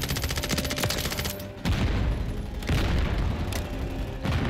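Rapid automatic gunfire from an SMG in a tactical shooter game, bursts of dense repeated shots broken by brief pauses, loud and close with heavy low booms.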